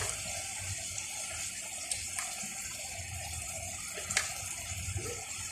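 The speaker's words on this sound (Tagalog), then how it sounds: "Lagyan mo ng konti ng hot water." Hot water is poured into pancit cooking in a pan, a soft, steady splashing hiss that is faint and continuous, with a few small clinks.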